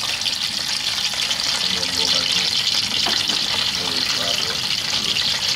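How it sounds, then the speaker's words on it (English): Perch fillets, bone-in and boneless, fry in hot oil at a hometown seafood boil, giving a steady, bright crackling sizzle with some watery bubbling and a voice faintly underneath. "Fish fry."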